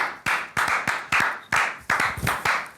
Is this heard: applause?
yes